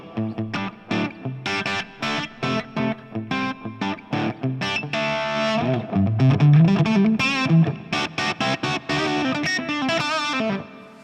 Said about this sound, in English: My favorite sound, in any case, high gain sound like this.